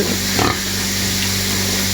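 Pig grunting on a Ukrainian farm, a single short low grunt early on, heard through a loud, steady hiss of background noise.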